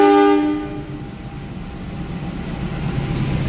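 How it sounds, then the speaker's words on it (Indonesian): A Tawang Jaya passenger train departs a busy Jakarta station at night, opening with a loud sustained horn blast, then a steady low rumble of rolling wagons and faint rail clatter. "Tawang Jaya dulu berangkat."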